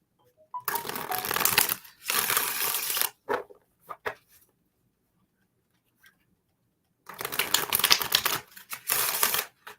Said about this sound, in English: I just dropped half the deck, Sean.